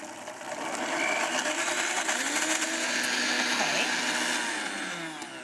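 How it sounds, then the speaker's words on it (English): A blender purees Jerusalem artichokes and chickpeas, a loud continuous whirring motor that ramps up, holds steady for several seconds, then winds down near the end. "I'm just gonna blend this up, and I wanna blend it so it's really, really smooth"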